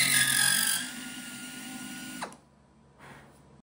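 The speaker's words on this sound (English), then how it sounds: "I drilled and dimpled a scrap piece of aluminum, the same thickness as the wing tank and wing skins, to use as a guide as I made the first countersink" Power tool cutting a countersink into a hole in thin aluminum wing skin for a Van's RV-14 airplane whirs loudly and close, winds down and stops, then gives one brief faint burst.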